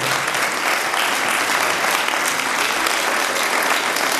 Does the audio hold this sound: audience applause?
yes